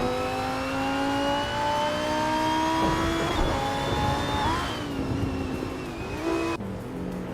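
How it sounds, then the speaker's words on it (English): A 2014 Lamborghini Asterion race car engine on a racing track holds a steady high whine that climbs in pitch, shifts gear and rises again, loud and continuous with no voices. "is leading the race in a 2014 Lamborghini Asturion"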